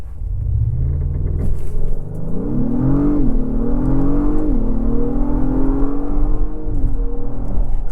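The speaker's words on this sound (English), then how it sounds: "But let me try the acceleration." A 2024 Acura MDX Type S Advanced with turbo boost accelerates hard, its engine drone rising in pitch over several upshifts, loud and rumbling from inside the cabin.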